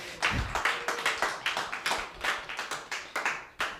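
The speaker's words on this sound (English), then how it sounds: "Everyone give Jake a round of applause" A small audience at a live stand-up comedy open mic claps, with distinct individual claps in an uneven rhythm and not a dense roar, fairly quiet and sparse, about a dozen sharp hits spread over a few seconds.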